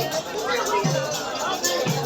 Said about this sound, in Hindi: भीड़ ही भीड़ है भाई साहब